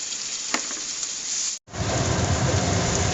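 Green chilies and tomatoes fry in a pan for a tomato and okra curry, a loud, close, rain-like sizzle that cuts out briefly partway through, then returns even stronger.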